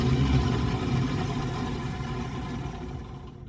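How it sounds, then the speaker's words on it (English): The starter cranks the engine of a 1951 GMC 6800 Holmes 525 wrecker tow truck with no fuel hooked up: a steady, close mechanical churning that turns over without firing and then winds down, with no voices. "but the starter spins."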